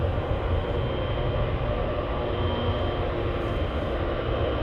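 F-35 or F-22 fighter jets at Anchorage airport give a steady, dense, broadband roar throughout, distant and unbroken, with no talking.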